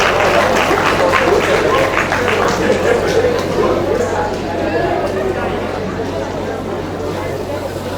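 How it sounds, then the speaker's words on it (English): Audience applauding during a classroom tie and dye practical demonstration, a steady sustained clapping from a crowd with some chatter mixed in throughout. "Clap for them."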